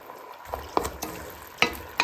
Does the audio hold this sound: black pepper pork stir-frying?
yes